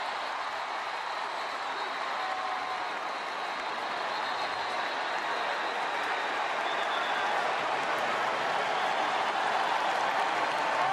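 Homecoming crowd at a West Virginia Mountaineers college football game against Texas Tech roars and applauds in a steady, distant wash of stadium noise lasting the whole stretch.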